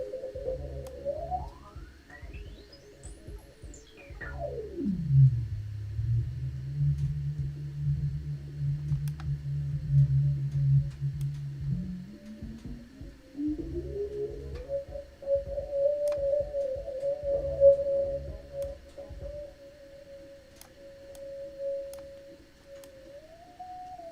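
Loud resonant tones from an Airwindows reverb plugin: a pitched sweep rises steeply, then plunges into a low sustained drone before climbing to a steady ringing peak, with faint ticking throughout and no voices.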